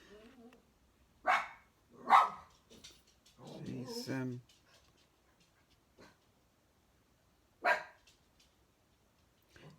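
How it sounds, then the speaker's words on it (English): A half Lhasa Apso dog barks a few sharp, separate times indoors, with a whimper and a person talking between the barks. "Excuse my dog barking."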